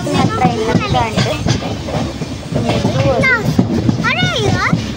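A train rolls along with a steady rumbling clatter while children and adults talk loudly over it from close by, their voices almost burying the rail noise.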